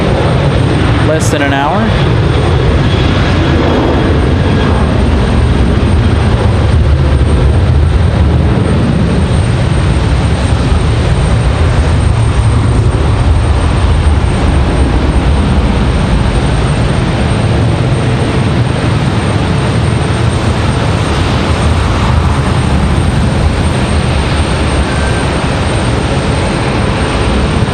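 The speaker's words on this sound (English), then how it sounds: "WestJet going to be our next departure. They're 737-700." A WestJet Boeing 737-700 departs Raleigh-Durham bound for Calgary, its steady broadband engine roar filling the scene loud and continuous, with a brief spoken remark near the start.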